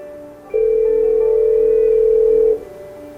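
A single steady telephone ringback tone sounds for about two seconds while a Cisco phone calls an internal extension, clean and loud against a quiet line.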